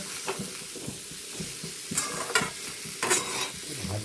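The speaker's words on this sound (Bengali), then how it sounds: "এরকমভাবে আমি 10 মিনিট মতো ভেজে নেব" Potato and papaya pieces frying in oil, sizzling steadily while a spoon stirs them, with periodic scraping strokes against the pan, close by and without talk.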